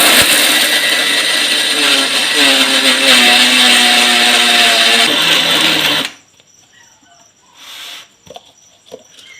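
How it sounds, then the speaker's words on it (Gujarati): A mixer grinder jar crushing peanuts and sesame seeds, a loud steady whirring grind for about six seconds that stops abruptly, followed by quiet clatter. "તો મિક્સર જગમાં ક્રશ કરી દઈશું એકદમ।"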